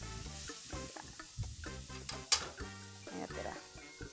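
Tofu sisig with onion being stirred in a hot pan, with steady sizzling and frying under repeated scraping strokes, while a voice talks and music plays faintly in the background.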